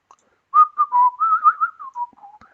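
A person whistles a short wavering tune alone, close and clear, after a brief pause of silence.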